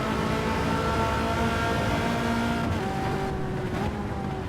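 A Ford GT in Gran Turismo 7 brakes hard, the loud steady engine drone dropping in pitch as it slows, with a faint tire squeal near the end and no talking.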